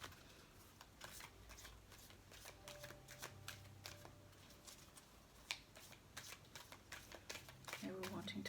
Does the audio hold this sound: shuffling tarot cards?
yes